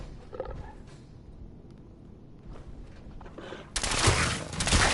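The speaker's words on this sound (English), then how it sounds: "Why would there be gunfire?" Bursts of rapid gunfire erupt loudly near the end of Fallout 4 gameplay, after a quieter stretch of rumbling game ambience, with scattered shots and a low growl earlier.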